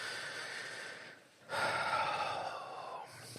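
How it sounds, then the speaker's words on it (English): A deep breath taken during a calm guided tapping session, a long airy inhale swelling and fading, followed by a second broad breath-like rush, close and steady with no talk. "Just take a nice big deep breath for me."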